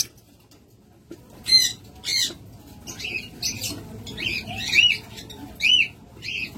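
Pet birds squawk in short, bright bursts with a faint flutter of wings, several calls spaced through the stretch, close and fairly loud, with no talking.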